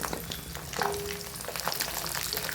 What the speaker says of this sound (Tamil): சின்ன வெங்காயம் நல்லா கோல்டன் ப்ரௌன் கலர் ஆகிற வரைக்கும் வதக்கிக்கணும்.